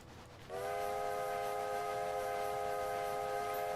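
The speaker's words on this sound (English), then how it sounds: "Sound whistle." In a train driving video game, a steam locomotive whistle sounds clearly after a brief pause, holding a steady, sustained multi-tone blast over a rumbling background.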